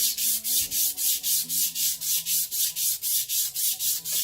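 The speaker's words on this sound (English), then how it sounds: "which makes it pretty easy for you to do sanding like this" Rhythmic back-and-forth scraping of a sanding block on wood, about four strokes a second, even and close, with no voices.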